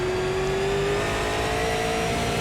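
A super late model race car in iRacing at North Wilkesboro Speedway drones steadily and loudly, its engine holding a sustained tone that rises slightly in pitch, with no talk over it.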